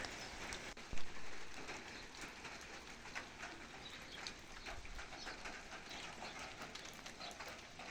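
Steady rain patters on a terrace planted with roses, a dense even hiss with scattered close drops and one louder knock early on, no voices.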